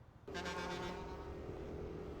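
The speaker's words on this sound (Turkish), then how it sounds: "Ne güzel korna ya. Ulan şu tırların kornalarına bayılıyorum ya." A loud, sustained semi-truck horn blares steadily, holding one deep tone over road noise in Üsküdar, Istanbul.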